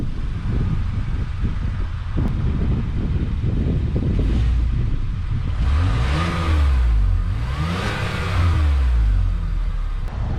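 A 2020 Chevy Blazer 2LT with a 3.6 liter V6, rev-limited near 4,000 RPM, idles with a low rumble, then revs twice in rising and falling sweeps, heard nearby with some wind noise.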